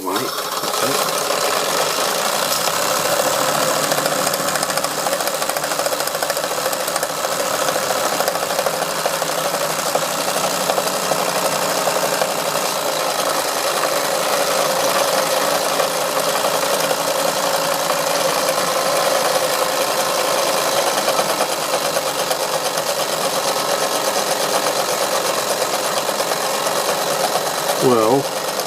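A Wilesco D141 toy steam engine drives a small saw through wood, giving a continuous close rapid mechanical chatter and whir that holds steady throughout.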